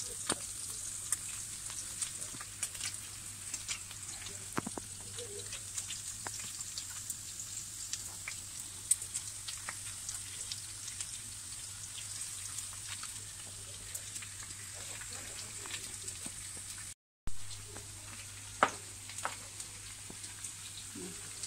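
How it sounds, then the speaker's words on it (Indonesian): Sausage and minced meat stir-fry in a pan with a quiet, steady sizzle, broken now and then by soft clicks and scrapes of stirring. "ini dicampurkan semua sambil diaduk"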